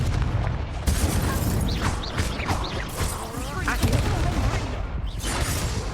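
Incendio fire spell cast repeatedly in Hogwarts Legacy, with booming whooshes and crackling bursts amid chaotic combat noise, a voice talking over it.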